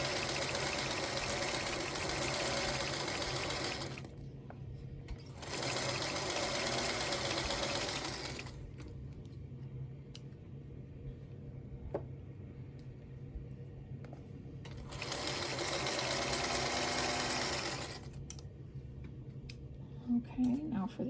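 A sewing machine stitching quilt block seams runs in three steady whirring bursts of a few seconds each, separated by quiet pauses filled with faint handling clicks and light talk.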